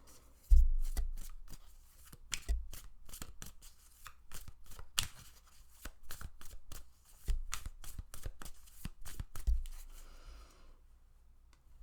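Pick-a-card reading deck being shuffled by hand, a long run of close, crisp riffling and card slaps in uneven bursts, with no talking.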